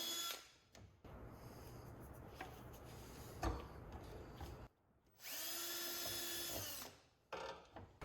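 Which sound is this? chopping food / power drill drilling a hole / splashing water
power drill drilling a hole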